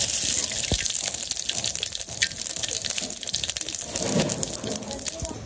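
Cumin seeds and radhuni spice sizzle in hot oil in a village kitchen, a steady close crackling hiss with a gushing, rain-like texture throughout, with no talk over it.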